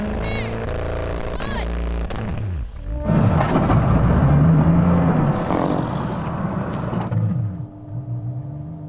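A Koenigsegg Agera RS and a Tesla Model X Plaid launch off the line in a drag race. After a short quieter stretch, a loud, sustained roar of engine and rushing noise swells and holds for several seconds, then eases off.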